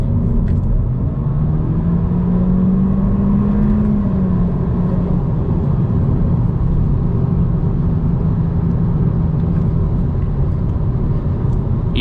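Inside a 2022 Honda Civic Touring with the 1.5-litre turbo L15 engine and CVT, the engine drones steadily under acceleration with a rising tone, and road rumble continues throughout.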